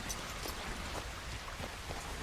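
Steady rainfall in Red Dead Redemption 2, a dense, even hiss of drops with a low rumble underneath, continuous and fairly soft throughout with no talking.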